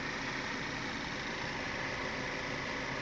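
A 2016 Chevy Malibu 2.0-litre turbo four-cylinder idles with a quiet, even hum and a soft mechanical whir, steady and unchanging, with no voices.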